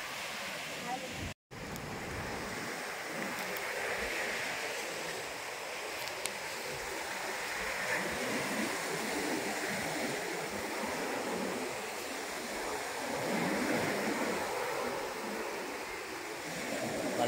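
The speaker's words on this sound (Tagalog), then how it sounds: "Malakas ang dagat, mga kalagalag eh." Strong sea waves surging in a continuous broad wash, loud and close, with a brief break near the start and swelling toward the end.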